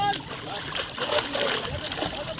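Water splashes and sloshes as katla fish are poured out at a pond, a close, busy splatter over several seconds while people talk.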